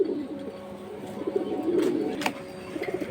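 A Giribaz pigeon coos repeatedly in soft, throaty calls among other birds, fairly close and moderately quiet.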